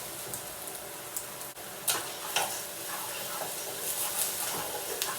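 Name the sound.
stirring mushrooms and herbs in a pan for quinoa risotto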